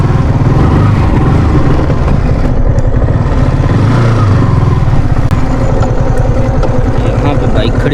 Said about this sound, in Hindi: यहाँ पे बाइक खड़ी कर देते हैं